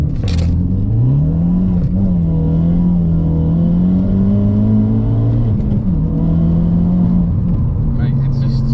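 A Ford Focus RS MK3 revs hard under acceleration, the engine note climbing and holding steady close up with its clutch slipping, while people talk inside the car.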